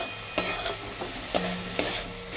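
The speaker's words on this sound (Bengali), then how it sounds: "তারপরে ওপর থেকে নিচ অব্দি নাড়াচাড়া করে নিতে হবে ভালো করে মিক্সড করে নিয়ে আর একটু টাইম করে ভালো করে ভেজে নিতে হবে" Moringa leaves frying in a pan with a constant sizzle, broken by three distinct scraping stirs of a spoon against the metal, no talking.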